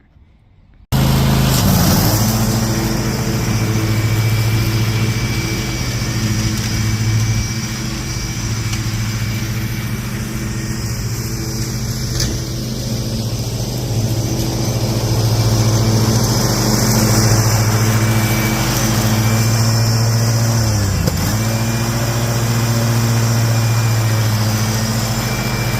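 A John Deere D160 riding lawn mower engine runs steadily and loud close by, a constant droning rumble with a slight dip partway through, starting abruptly after a brief moment of quiet.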